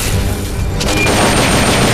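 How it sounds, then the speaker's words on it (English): Gunfire in the video game Metal Gear Solid: Peace Walker comes as a dense, loud burst of shots and booming blasts, continuous throughout with no pauses and no voices. "Just keep shooting."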